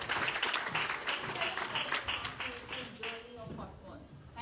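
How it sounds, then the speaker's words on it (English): At a Mrs India Worldwide audition in Delhi, an audience claps for a contestant. The applause is dense and steady at first, then thins and fades with faint talk underneath. "Can we have a huge round of applause for Aditi Dubey?"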